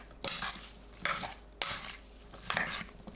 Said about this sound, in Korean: 양파, 오이 넣고 섞어줍니다.